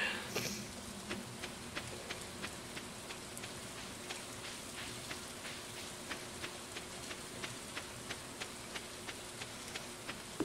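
Steady rain from the video game Stardew Valley patters evenly throughout, with a soft regular ticking repeating about twice a second over the hiss; no talking.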